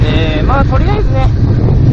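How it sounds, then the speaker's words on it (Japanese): Strong wind buffets the microphone on the Great Ocean Road in Australia, a steady loud low roar running throughout while someone speaks over it. "バイクをね、駐車できないんですよ、あまりにも風が強すぎて。"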